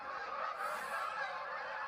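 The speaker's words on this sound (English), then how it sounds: "There's a lot of geese." Many geese honk together in a steady, dense chorus at moderate distance, with the calls overlapping throughout.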